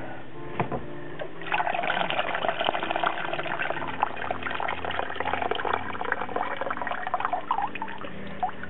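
Water runs and splashes over mung bean sprouts being rinsed, a continuous moderate pouring and sloshing with a few drips, fairly close and without talk.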